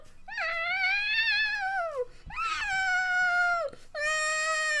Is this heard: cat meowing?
yes